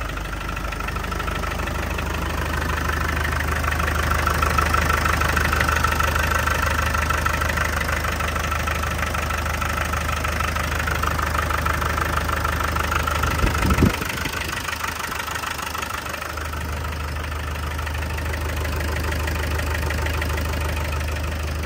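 A Land Rover Defender 90 diesel engine idles steadily while warming up, a continuous low, even rumble close by with no talk, briefly dipping and roughening for a moment partway through before settling back to the same idle.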